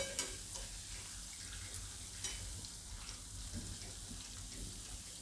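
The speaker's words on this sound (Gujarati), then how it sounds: "ધીમે ગેસે એને આપણે તરાવા દેવાની" Suvali, a Gujarati fried dough snack, frying in hot oil over a low gas flame: a soft, steady sizzle with faint bubbling and an occasional light tick, quiet and continuous with no voices.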